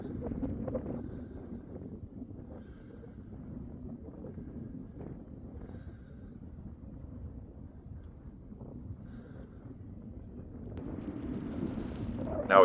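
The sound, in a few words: wind blowing on the microphone outdoors at a shooting range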